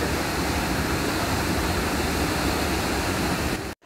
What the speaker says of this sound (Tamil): பொள்ளாச்சிக்கு அடுத்து வால்பாறை ரூட்டில் இருக்கக்கூடிய மங்கி ஃபால்ஸ், குரங்கு அருவி. அதோட நேரடி காட்சியை பாருங்கள்.